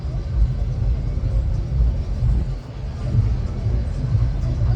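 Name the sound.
motorcycles passing by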